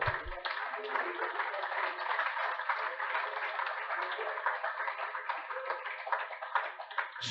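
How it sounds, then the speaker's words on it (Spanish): A church congregation applauds steadily at a sermon, a dense, even wash of many hands clapping for several seconds at moderate distance, with a brief louder thump at the start and end. "Démosle un aplauso."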